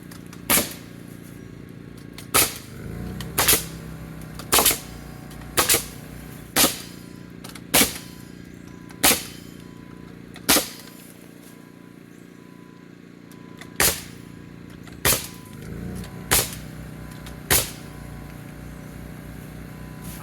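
A nail gun driving nails into sub floor framing joists for a new tractor barn: sharp, loud single bangs fired one at a time at irregular intervals of one to three seconds, with a low hum between shots.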